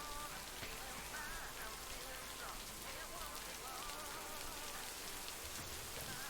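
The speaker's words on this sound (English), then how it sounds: "Hey, this rain is loud." Heavy rain falls in a video game as a dense, steady hiss and patter that fills the whole stretch, constant and enveloping with no pauses.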